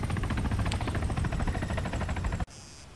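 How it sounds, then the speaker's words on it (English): A helicopter in the video game ArmA 3 whirs close by with dense, rhythmic rotor thumping and engine drone, then cuts off abruptly near the end, leaving a quiet tone. "Staying outside of this chopper too."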